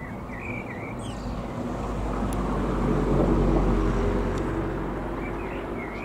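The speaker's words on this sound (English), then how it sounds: "Oh, it's a jet ski," A jet ski engine drones steadily on open water, a broad low rumble that swells toward the middle and eases off, with wind noise and no talking.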